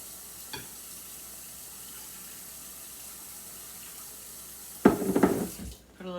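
Water is poured into a bowl in a home kitchen, a brief splashing gush rising suddenly near the end after a quiet stretch of low background hiss.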